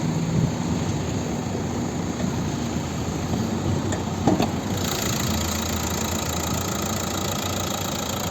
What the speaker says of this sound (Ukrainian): Як працює двигун.